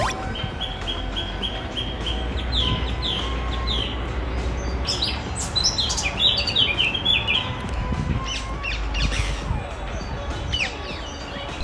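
Tiny songbird pouring out a loud, powerful song of rapid high chirps and trills, repeated in bursts over outdoor ambient noise, with other bird calls scattered around.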